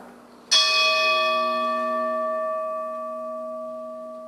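A church bell tolls once at a memorial prayer service in Lewiston, a loud clear strike whose rich ringing tone sustains and slowly fades.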